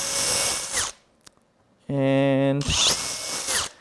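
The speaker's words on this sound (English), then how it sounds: "This is where you need 2 drills, one with the 1/8 drill bit and one with the 1/4 drill bit" A power drill fitted with 1/8 and 1/4 inch bits bores holes in a polycarbonate sheet. It runs in two loud, steady bursts separated by a short quiet pause, and one word is spoken.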